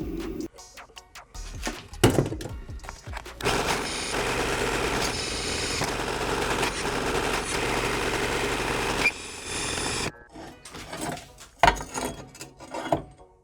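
A drill bores holes through a hand-forged leaf spring steel cleaver blade, a sustained whirring grind running several seconds between brief clanks and handling knocks in a workshop.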